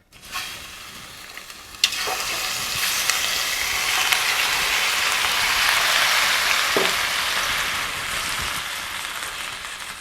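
Shrimp hit a hot pan with some rendered fat, setting off a loud, steady sizzle with a sharp crackle as they land. The frying holds bright and continuous for several seconds, with no talk over it.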